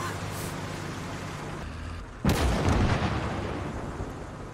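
Enemy gunfire hits near the player's tank in the World War II game OstFront. A sudden loud blast lands mid-clip over a constant low battlefield rumble, followed by a rough, decaying roar.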